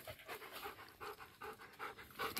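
A small dog pants in quick rhythmic bursts while walking on jungle trails, the breathing close but fairly soft, with no talk over it.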